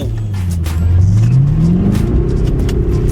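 An old Toyota Prius on worn tires accelerates hard from a stoplight, its engine note climbing steadily in pitch as it revs up, loud and close throughout with a whirring drive sound and no talk over it.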